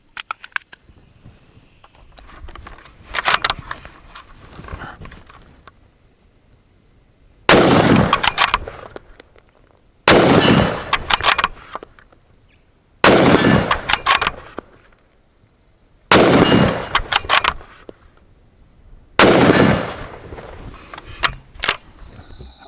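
A Sako S20 Hunter rifle in 6.5 Creedmoor fires five loud, sharp shots at a steady pace of roughly one every three seconds, each blast ringing out briefly before dropping to quiet outdoor ambience.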